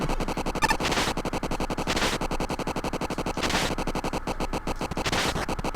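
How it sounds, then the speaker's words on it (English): Boss explosion effect in a Mega Man level: rapid, continuous chiptune blasts crackle steadily, with repeated louder bursts about every second and a half, loud and unbroken. "The space station that never finishes exploding, the boss that never finishes exploding."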